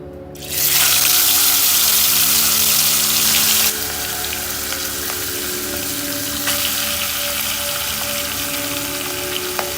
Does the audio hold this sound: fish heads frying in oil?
yes